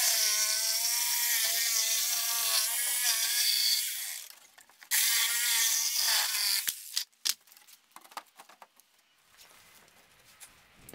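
Power saw cutting pallet wood for a raised garden bed, a loud sustained whine for about four seconds, then a second shorter cut, followed by scattered knocks and handling noises.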